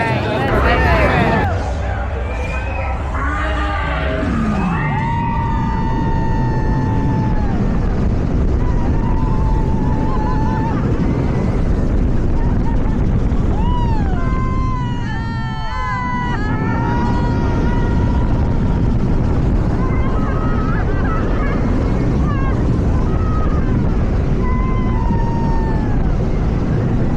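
Riders scream and shout aboard MonteZOOMa's Forbidden Fortress, a new LSM-launched roller coaster, with a steady loud roar of the ride and rushing wind throughout, shrieking voices rising and falling over it.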